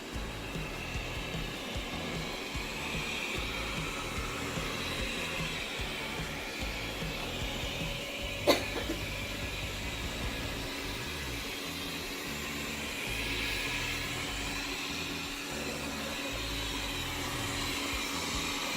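A Wyze robot vacuum cleaner runs with a continuous steady whir and motor drone, held close and even throughout, with one brief sharp click midway and no talk.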